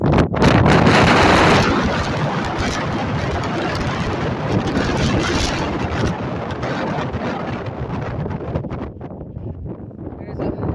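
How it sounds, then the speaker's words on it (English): Strong wind roars and buffets the microphone in loud gusts atop Midnight Dome near Dawson City, easing slightly toward the end, with occasional speech beneath it. "It is really, really windy up here."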